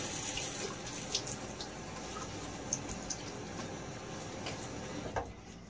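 A bathroom tap runs steadily into a sink while a man wets his face before shaving, a close, even hiss of water with a few faint splashes and knocks and no talking.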